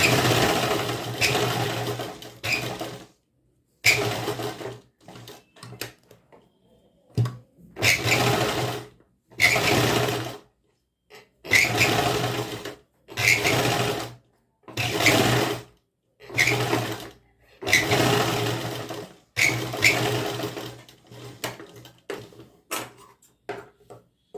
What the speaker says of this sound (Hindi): अब ये कपड़ा इसके ऊपर फोल्ड करते जाएंगे और दोबारा से कच्ची सिलाई लगा देंगे।